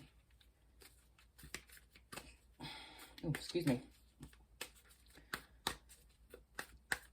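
Oracle cards are shuffled by hand in quick, crisp bursts of riffling and sliding, a rapid papery patter close to the microphone, interrupted briefly by a spoken word.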